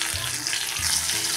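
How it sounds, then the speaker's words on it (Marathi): Thin-sliced green chillies frying in hot oil, a steady close sizzle with a soft stir or two, no voices. "मिरची अशी थोडा वेळ परतून घेऊया।"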